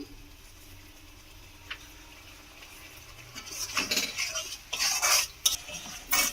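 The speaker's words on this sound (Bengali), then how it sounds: "খুব ভালো করে আমি মশলাটাকে এইভাবে আমি কষিয়ে নেব" Masala being stirred and fried in a pan, quiet at first, then a bright sizzling swell with clattering stirring strokes in the last few seconds, close by.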